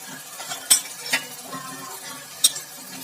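Onions and tomatoes fry in a pan for matar chole, a soft steady sizzle broken by three sharp spatula clinks against the pan, close up with no voices.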